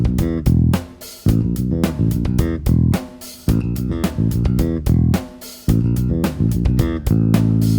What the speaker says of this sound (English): The opening riff repeats a few times through the tunes, and it sounds like this.